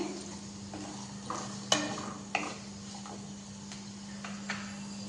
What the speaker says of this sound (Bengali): সরষের তেলটা হিট হয়ে গেছে এবার দিয়ে দিচ্ছি আলু কেটে রাখা আলুটা দেওয়ার পর নেড়ে চেড়ে নিচ্ছি